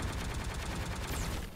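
Rapid, dense gunfire from Chris in the fighting game Marvel vs. Capcom Infinite, a continuous rattling barrage with booming low end that never pauses, with no voices.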